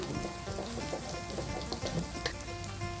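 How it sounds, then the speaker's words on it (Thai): Curry paste with a little shrimp paste frying in a hot pan for a spicy stir-fried beef dish: a dense, continuous close sizzle and crackle throughout, with no talking. "ผัดเครื่องแกงให้หอมก่อนนะคะ"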